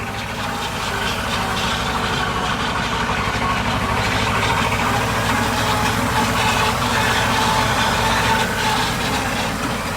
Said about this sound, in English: So here we go, rev it right up.